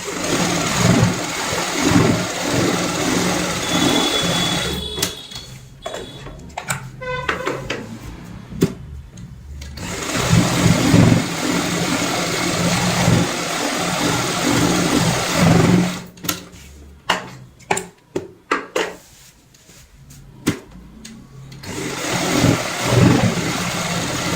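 A sewing machine stitches a cushion cover in long, loud whirring runs broken by pauses and short bursts of start-stop stitching, with clicks and handling noises between runs.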